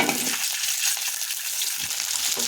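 Onions dropped into hot oil in a pan, with a steady, close hiss of frying that fills the short stretch alone, broad and even, with a slight surge near the start.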